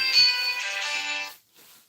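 A mobile phone ringtone plays loudly in a room during a live stream, a steady tonal melody lasting over a second before stopping abruptly, followed by faint background noise.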